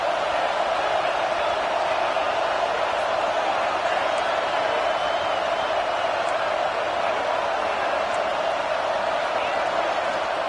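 A stadium crowd roars in NCAA Football 25, a constant, loud, dense wash of cheering voices that holds steady throughout without breaks.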